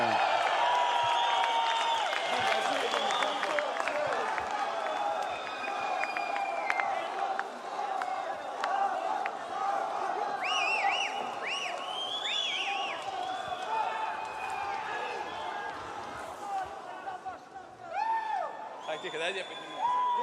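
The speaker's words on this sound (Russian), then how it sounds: "Аплодисменты!" A crowd at a ceremony presenting a BMW to a champion applauds and cheers continuously, with whistles and scattered shouts rising above the clapping throughout.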